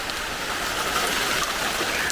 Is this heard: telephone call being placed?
no